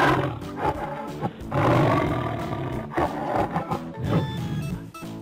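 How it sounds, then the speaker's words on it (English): A tiger roars loud and close, a deep growling roar rising and swelling in several heavy bursts over a few seconds, alone with no talking. "Tiger."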